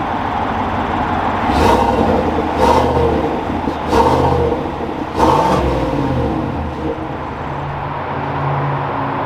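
Engine of a 2021 GMC Sierra 1500 Elevation pickup revs in four loud, rising bursts over a steady idle, then settles into a lower running hum as the truck moves off.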